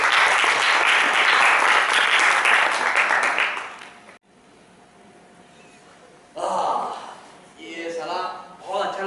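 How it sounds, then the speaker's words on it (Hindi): Loud applause from a crowd for several seconds, fading out, followed by brief talk and more scattered clapping. "तालियां बजा रहे हो उसके लिए जोर से।"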